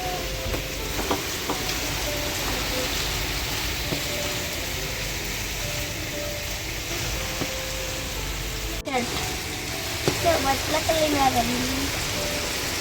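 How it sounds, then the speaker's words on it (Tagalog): Steady, dense hiss of heavy rain pouring down on a vegetable garden in Oman throughout, with a brief break and some faint tonal chirps or voices near the end. "Sobrang lakas ng ulan, as in ngayon lang to."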